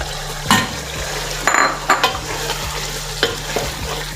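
Light-brown fried onions stirred back into a sizzling tomato masala for chicken pulao, a steady frying hiss broken by several scraping spoon strokes and clinks against the pot.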